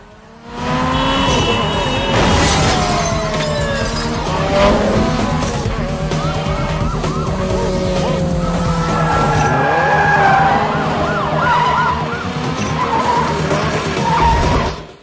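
Tires squeal and skid continuously over roaring engines in a movie car chase, a loud, busy burst of action that rises and falls for several seconds.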